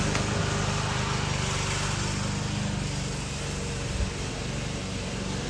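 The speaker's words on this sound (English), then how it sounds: "Let me know if y'all can hear me clear over that lawnmower." A lawn mower drones steadily and fairly loud throughout, a constant engine hum with a brief bump near the four-second mark and no talk.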